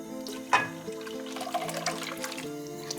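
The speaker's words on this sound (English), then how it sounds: "Turn heat to medium and add the milk." Milk poured into a saucepan on medium heat while making a Mexican beverage, a soft, close liquid trickle with a few small splashes and drips, quiet over faint background hum.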